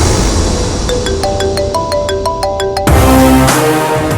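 A mobile phone rings with an incoming call in a Tamil TV drama scene, playing a clear electronic melody of repeating notes that shifts to a different tune partway through. The ringtone sounds loud and close, with no one speaking.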